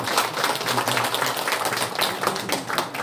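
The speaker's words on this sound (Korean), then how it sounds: "군수님한테 우리 뜨거운 감사의 박수 다시 한번 드립니다" Dense, continuous audience applause for a county governor, many hands clapping at once at steady loudness throughout, with a faint voice underneath.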